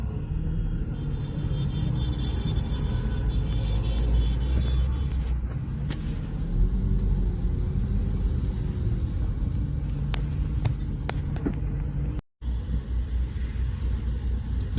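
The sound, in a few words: truck engine rumbling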